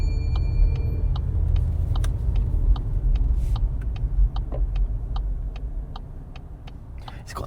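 A car's turn indicator ticks in a steady, regular rhythm over the low rumble of the engine inside the cabin.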